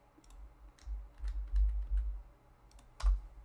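Faint scattered key clicks from a computer keyboard being typed on, a few sharp taps spread irregularly over a quiet background with low thumps.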